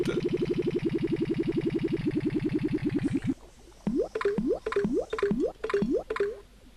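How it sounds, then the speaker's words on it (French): Elixir poured into a bottle in the Goblins 3 game: a buzzy, rapid bubbling glug for about three seconds, then a run of rising boing-like squelches and drips, loud and alone. "Donc l'élixir qu'on met dans la bouteille."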